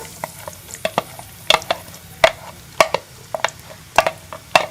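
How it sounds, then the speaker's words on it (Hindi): Finely chopped onions, two medium ones, fry in hot ghee in a kadhai, giving a soft sizzle under a string of irregular sharp ticks and clicks from stirring, close and moderately loud. "प्याज को लाइट सा गोल्डन कलर आने तक फ्राई कर लेंगे"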